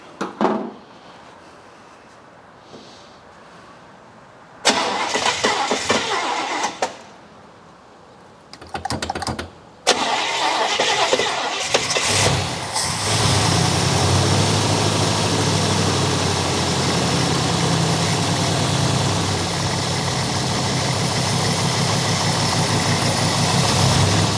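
A 1964 Buick Electra engine with a sticking throttle stays quiet at first, gives two short bursts of cranking, then catches and settles into a loud, steady, continuous run.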